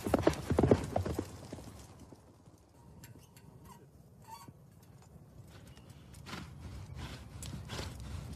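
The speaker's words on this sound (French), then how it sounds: "Les cavaliers doivent galoper sur une piste longue de plus de 200 mètres et atteindre 3 cibles distinctes." Horses ridden at a gallop along a yabusame track of over 200 metres, hooves clip-clopping loudly at first, then fading to a quieter rhythmic drumming with a faint distant whinny.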